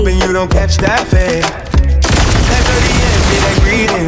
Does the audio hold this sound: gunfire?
yes